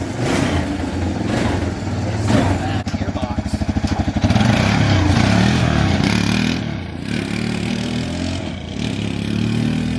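Honda Fourtrax ATV engine, running a mismatched carburetor meant for a Kawasaki, revs hard and loud up close with a rapid mechanical putter in the middle, then holds at a high steady drone; a voice speaks faintly underneath.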